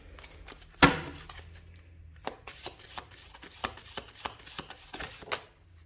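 A tarot card deck is shuffled up close, starting with one sharp knock, then a quick series of crisp riffling flicks and soft card slaps in an otherwise quiet room.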